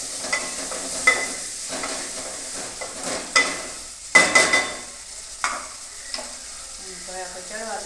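Tomatoes and onion frying in a pan for masala Maggi, with a spoon scraping and stirring in repeated strokes over a steady sizzle, close and moderately loud, with occasional sharper clinks.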